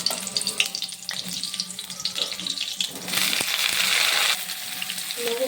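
Sliced ridge gourd dropped into hot oil seasoned with nigella seeds and asafoetida, sizzling steadily and rising into a louder frying hiss partway through.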